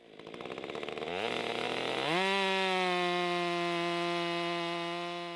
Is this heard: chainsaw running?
yes